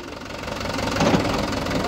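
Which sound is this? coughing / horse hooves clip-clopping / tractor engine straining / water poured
tractor engine straining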